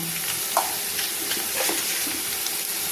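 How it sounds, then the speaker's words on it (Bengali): Potatoes fry with salt in a pan, a close, continuous sizzle broken by a few soft scrapes and clinks of stirring, with no one speaking. "এবার আলুটা ভালো করে লাল লাল করে ভেজে নেব"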